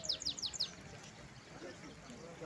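A hybrid goldfinch at a bird market sings a quick run of four bright, high chirps near the start, then thinner fainter notes over a steady murmur of crowd noise.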